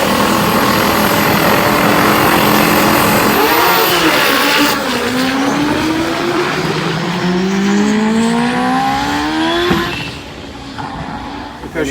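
A 500hp street-legal Kawasaki ZX10R drag bike roars down the strip at full throttle, its loud high-pitched engine climbing through rapid gear changes before easing off and fading near the end.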